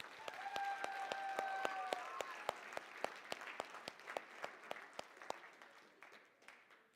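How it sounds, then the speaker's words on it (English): Students at a state FFA convention in Alaska applaud after a service project, a crowd's clapping rising and then thinning into scattered, sharper individual claps that fade out by the end. "Let's give ourselves a round of applause"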